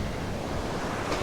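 Waves break and wash along the beach at Ocean City, Maryland, a continuous loud surf roar with some wind noise on the microphone.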